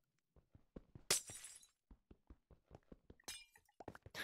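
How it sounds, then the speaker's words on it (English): Glass blocks being broken in a block-building survival game, a series of close rapid taps and thunks with two bright shattering crashes, loud against an otherwise quiet background, no voices. "I don't care about getting this glass. Let's just break it."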